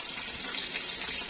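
Water pouring and splashing over a dog during a bath, a brief steady rushing stream at moderate loudness with no voices.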